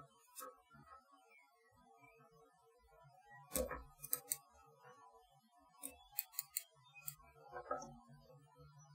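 Small scissors trimming fly-tying material on a fly pattern, sparse quiet snips and clicks in a few short clusters against near silence.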